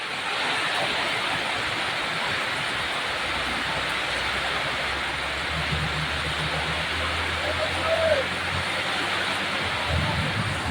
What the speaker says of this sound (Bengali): দেখেন কীভাবে বৃষ্টি নামছে।